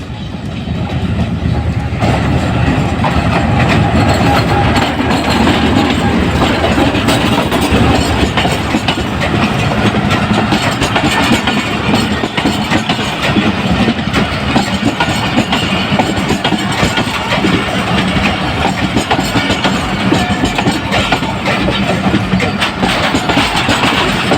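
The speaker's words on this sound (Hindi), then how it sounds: "214 डाउन मोनजोदड़ो पैसेंजर अप्रोच बना रही है हबीब कोट जंक्शन।" A Mohenjodaro passenger train approaches Habib Kot junction with a loud, steady rumble and a rattle of wheels and cars that runs unbroken for the whole stretch, close by and with no voices.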